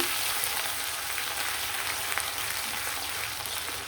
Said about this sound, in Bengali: এখানে সেই গরম তেলের মধ্যে পেঁয়াজ কিছু কিছু আর রসুন দিয়ে দিলাম